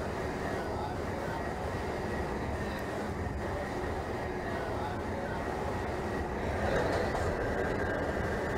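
A simulated NYC subway A train bound for Inwood 207th Street rumbles along in Trainz Simulator 2012, a steady moderate drone of motors and wheels with no clear talk.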